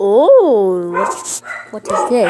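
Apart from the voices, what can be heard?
dog barking in Roblox Jailbreak video game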